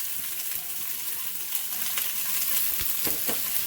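Chopped onion sizzling in about two tablespoons of hot olive oil in a pot, a steady bright frying hiss with a few soft stirring knocks near the end.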